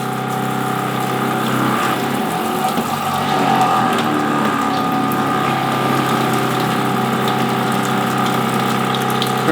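A Joolca Hot Tap Nomad portable water heater runs with a steady pump hum and constant flowing water, close and continuous throughout with no break.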